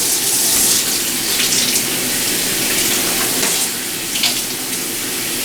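Water runs steadily from a tap, splashing as dyed human hair is rinsed under it, a continuous close hiss with small shifts in the flow and no talking.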